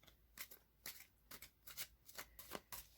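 Morgan Greer tarot cards are shuffled by hand in a steady series of crisp riffling bursts, about seven in three seconds, close and fairly quiet with no talking.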